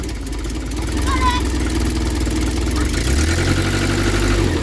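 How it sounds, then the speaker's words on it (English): A Triumph Dolomite car engine idles steadily and loudly with a low, even rumble after an ignition overhaul with electronic ignition, a voice speaking briefly over it. "That sounds sweet as a nut, that engine, doesn't it?"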